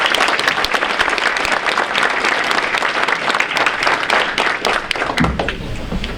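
Applause from the audience at a school varsity sports awards ceremony, a loud, busy patter of many hands clapping steadily that thins out near the end.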